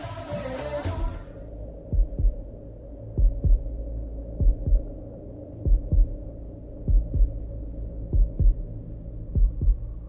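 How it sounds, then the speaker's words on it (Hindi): A brief burst of sound gives way to a slow, steady heartbeat, paired thumps repeating evenly over a low hum. "तुम्हारे दिल की धड़कन सुनाई दे रही"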